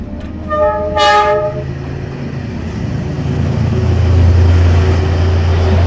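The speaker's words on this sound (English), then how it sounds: "We are about 6 inches from a train." A train horn blares briefly, then a heavy train rumbles past very close, its low roar steadily growing louder.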